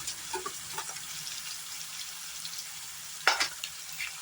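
Onion and tomato paste frying in a pan for egg curry, with a steady soft sizzle and a few scraping stirs, one sharper clatter near the end; no voices.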